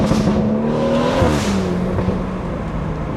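A tuned 500-horsepower BMW 340 with a B58 engine accelerates hard from inside the cabin, its intake and exhaust giving a loud, rising roar that peaks and settles into a steady drone.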